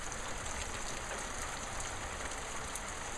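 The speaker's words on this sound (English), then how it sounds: "The rain here." Steady rain falling outdoors, a dense, even hiss of drops with a faint constant high whine behind it and no pauses, fairly quiet throughout.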